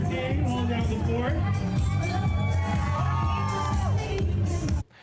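Loud, dense crowd noise at the Windsor Pride Parade, with cheering, whoops and children's shouts over constant babble, cutting off abruptly near the end.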